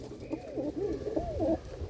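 Racing pigeons in a netted loft give a close, soft rolling coo, several throaty notes in quick succession over a low background hum.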